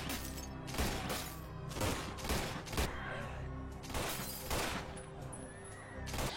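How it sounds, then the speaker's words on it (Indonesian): Gunfire from the action film Assault on Wall Street, a string of sharp shots in irregular bursts over a rumbling background, fairly close. "Tak hanya Robert, target-target lain pun telah dibidik oleh si Jim dari kejauhan"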